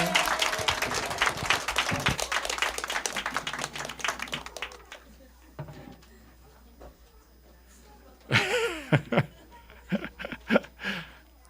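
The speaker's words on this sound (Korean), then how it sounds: "우리 지한이에게 생일 축하해 하면서 박수 쳐주겠습니다" A church congregation applauds a child's birthday during a Sunday service, with loud clapping for several seconds that fades. Softer talk and laughter follow, then a second burst of claps.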